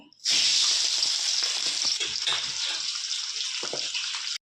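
Pieces of boal fish fry in hot oil with a loud, dense, continuous sizzle. It starts abruptly, holds steady for about four seconds with light crackles, then stops.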